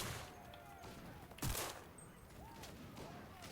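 A single loud shot in the video game Enlisted stands out amid a low background hum and a few faint tonal game sounds.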